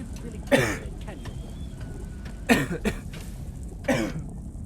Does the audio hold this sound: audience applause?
no